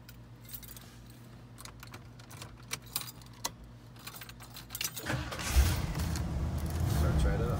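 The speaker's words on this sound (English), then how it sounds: "Let me count the keys." Keys to a 1969 Lincoln limousine jangle and clink lightly in irregular bursts close by while a person talks. After about five seconds the car's engine turns over and keeps running with a low rumble.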